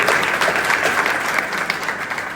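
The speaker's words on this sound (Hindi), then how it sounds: "इनके लिए ताली बजाइए" A room full of people at a smartphone distribution ceremony claps steadily, a dense, even burst of applause with no voices standing out.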